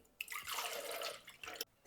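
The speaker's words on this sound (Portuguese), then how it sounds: "No liquidificador, adicione o caldo." Corn broth is poured into a blender, a continuous liquid splashing and trickling for over a second, fairly close, then cutting off abruptly.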